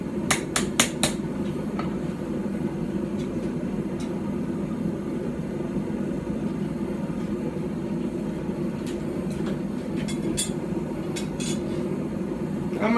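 Sharp metallic hammer strikes ring out in short clusters, a blade being forged on a stump anvil, over a steady background rumble, with quieter gaps between the bursts of blows.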